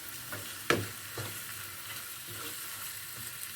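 Peppers and onion sauté in a pan as green vegetables cook together with squash, a soft continuous sizzle close by with a few louder stirring clacks early on, quiet and without voices.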